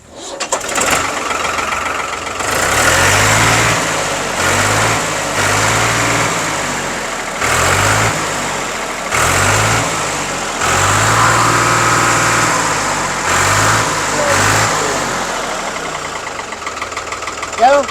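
A tractor engine starts up, then idles with a loud, knocking rhythm and is revved repeatedly in surges up close.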